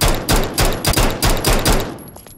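Rapid gunfire in a nextbot video game: a close, loud string of about eight sharp shots in an uneven rhythm, tailing off at the end with no talk.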